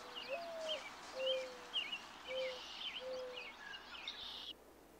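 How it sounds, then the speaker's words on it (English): A mourning dove coos in a series of soft, steady calls, repeating several times against a quiet outdoor background with faint birdsong. "like this mourning dove."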